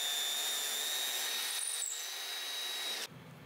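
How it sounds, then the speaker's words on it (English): A power drill in a portable drill guide bores holes in wood for a custom sit-stand desk, a steady close whine running for about three seconds before cutting off abruptly. "I used a portable drill guide to ensure that these holes were perfectly straight"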